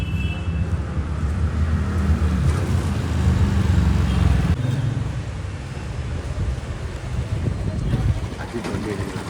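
A vehicle at Bannerghatta Zoo in Bengaluru pulls away with a loud, close engine rumble that eases and changes character partway through. People talk over the motor noise.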